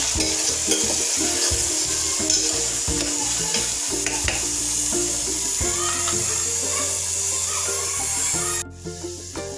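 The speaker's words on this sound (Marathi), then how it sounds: "फोडणी व्यवस्थित परतवून घेऊ" Onion tempering with crushed garlic and chilli for Khandesh-style khichdi being stir-fried in a pan, a steady close sizzle with repeated scraping and stirring strokes throughout, no talk.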